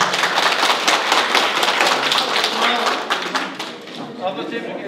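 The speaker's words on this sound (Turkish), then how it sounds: "Büyük bir alkış." Audience applause at a regional cooking competition in Van, Turkey: a dense, steady wash of many hands clapping close by for about five seconds, easing slightly toward the end, with voices mixed in.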